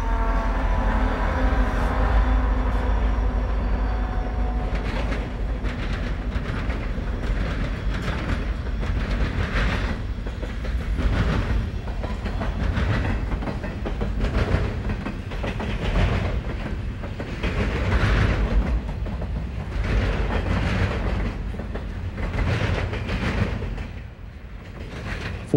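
An eastbound TOFC freight train crosses a railroad diamond, its wheels clattering in a steady rhythmic clickety-clack over the crossing, loud and close throughout with a continuous low rumble.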